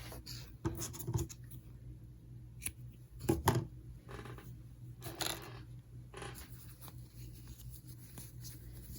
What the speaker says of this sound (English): And we're going to cut our yarn.